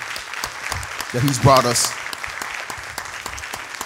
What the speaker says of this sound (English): why don't we just give God a hand clap of praise for all the greatness